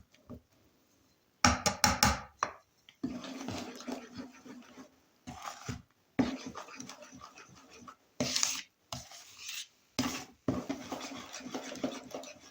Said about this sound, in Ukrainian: Вимішуємо гарненько.